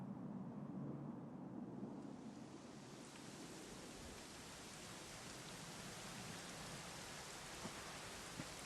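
Steady rain in the video game Dragon Quest XI, a dense, even hiss of falling water that swells after a quieter low rumble at the start and continues unbroken, with no voices.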